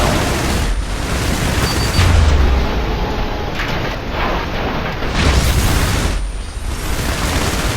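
Airstrike explosions in the video game IS Defense on a harbor level, loud rolling booms and rumbling blasts overlapping continuously with heavy low-end thunder.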